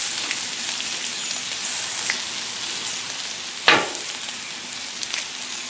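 Potatoes frying on a Blackstone griddle, tossed with a spatula: a steady close sizzle and crackle with one sharp metallic scrape partway through.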